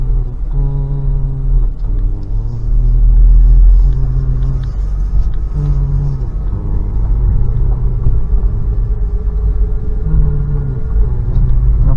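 A 1998 Ford Mustang with an engine misfire drives along, a loud, close, continuous low rumble with droning engine tones that rise and fall as it shifts and accelerates, with no voices.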